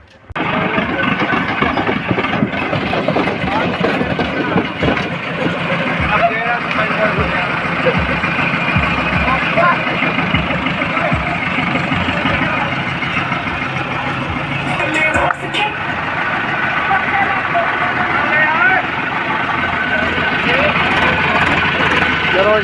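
A tractor engine chugs steadily and loudly throughout in a Punjab village, a continuous low rumble with occasional voices talking over it.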